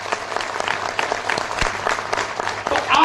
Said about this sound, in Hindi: एक बार अपने लिए जोरदार तालियां बजा लो